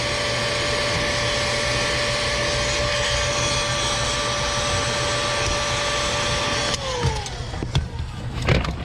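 A heat gun blows hot air in a steady, loud whoosh with a constant whine for about seven seconds, then cuts off, leaving scattered handling clicks and knocks.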